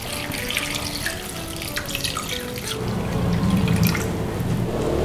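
Water pours from a tap into a pot holding rock sugar, palm sugar, sliced ginger, cinnamon bark and pandan leaves, a steady splashing stream that deepens into a fuller, lower rush as the pot fills.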